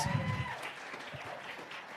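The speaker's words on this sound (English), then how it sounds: "Give them a round of applause." Audience applause at a Texas Democratic Party chair candidates forum, a soft, distant, diffuse patter of clapping with some low room noise, steady across two seconds.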